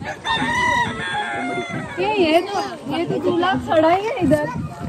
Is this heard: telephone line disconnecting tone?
no